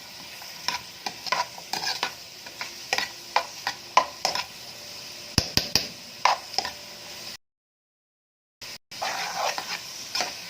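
Vegetables sautéing in oil in a pot for stuffed-vegetable mahshi, stirred with regular clanking scrapes over a steady sizzle, close and fairly loud, then a brief silence before the sizzling resumes.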